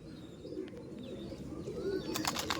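Soft cooing of Chotiyal pigeons murmurs nearby in a loft, ending in a short flurry of sharp rustles like flapping wings.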